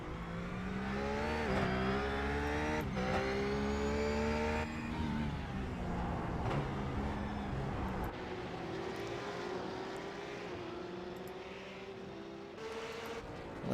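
Supercars and RUF race cars at Phillip Island race circuit roar past at speed, engines rising and dropping in pitch with gear changes, loud and sustained with several cars passing.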